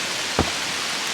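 Steady rain falls on Haeryongsan Mountain during a rainy-season hike, a dense, even hiss close around the listener with one brief soft thump.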